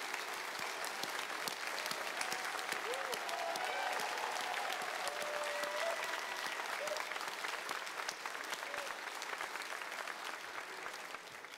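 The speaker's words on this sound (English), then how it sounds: "Would you please give them a round of applause?" Sustained crowd applause for astronaut scholarship recipients fills a large ceremony space at an induction event, a thick, even wash of clapping with faint voices mixed in, easing slightly toward the end.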